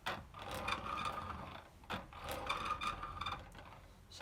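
Burrs of a 1930s Dienes Solida 613 coffee grinder being adjusted, giving a steady metallic-wooden rubbing and ratcheting grind with brief pauses, close and moderately loud with no talk.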